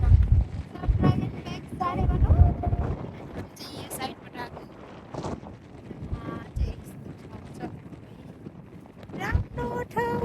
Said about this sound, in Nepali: एकदमै राम्रो हावा चल्ने ठाउँ यहाँ